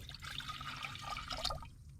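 Water pours and trickles steadily into a pot of sweet corn and milk at close range, a continuous liquid splash for a couple of seconds.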